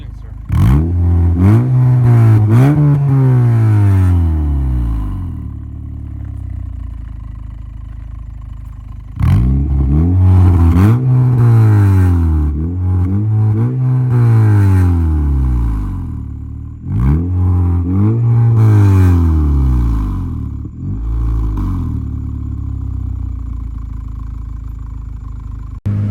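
A 2013 Honda Civic Si coupe with an Invidia N1 catback exhaust and silencer, accelerating loudly through gears in three long pulls with rising and falling engine pitch, heard from close up with brief lulls between.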